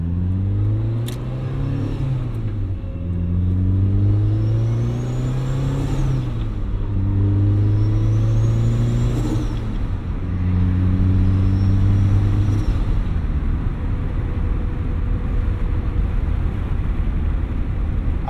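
A turbocharged Mazda Miata engine pulls through several gears on a drive, loud rising revs with clear shift breaks between them and a faint turbo whistle over the steady road roar.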